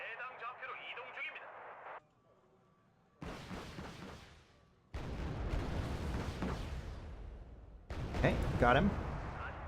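Artillery fire in the real-time strategy game Wargame: Red Dragon produces dense, rumbling explosions and distant booms that build in loudness across the clip, following a brief spoken remark and a quiet gap.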